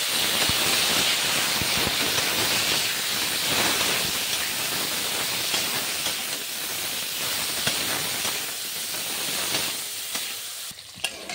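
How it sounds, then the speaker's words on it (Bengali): Okra and potato frying in a pan with turmeric and salt, a steady loud sizzle and hiss throughout with occasional stirring scrapes, alone without talk. "দিয়ে ভালো করে একটু ভেজে নেবো ভেন্ডিটা আর আলুটা।"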